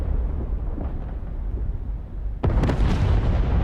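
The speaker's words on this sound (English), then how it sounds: "all what I'm hearing is loads of echoing explosions as all of these JTAMs hit" Echoing missile explosions in a naval video game, as a modern aircraft carrier's strikes hit ships in a 1944 Philippine Sea battle scenario. A continuous rolling rumble of blasts runs throughout, then a sharper, louder burst lands near the end and the boom sustains.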